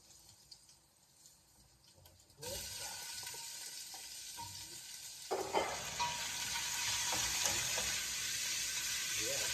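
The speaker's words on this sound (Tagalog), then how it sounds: "Pag pula-pula na, saka natin lagay yung sibuyas." Onions dropped into a hot pan: a quiet stirring background jumps suddenly into loud, steady sizzling, then swells again as more ingredients go in, close and continuous with faint talk underneath.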